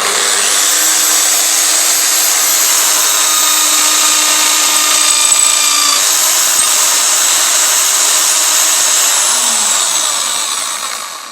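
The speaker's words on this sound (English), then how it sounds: "let's go ahead and drill the first hole" Power drill boring holes into an aluminum PVC snake rack, a continuous high whine held close and loud for around ten seconds, with a brief pitch change midway before the motor winds down at the end.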